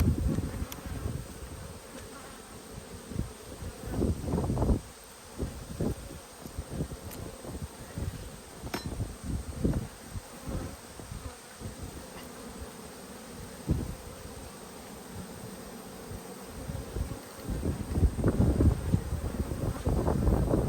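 Bees buzz steadily around an open hive during an inspection, a dense close-up drone with wind noise on the microphone and occasional rustling or handling sounds, with no voices.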